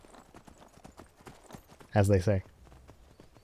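Horse hooves clip-clopping in the Skyrim video game, a steady run of light rhythmic hoofbeats under a voice speaking briefly, with a short louder burst in the middle.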